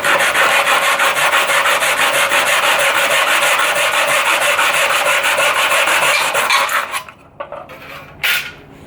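Wooden door trim is cut straight across at 90 degrees with a hand saw, a loud, close, fast rasping stroke repeated steadily for about seven seconds before stopping, followed by a few faint knocks and one brief scrape.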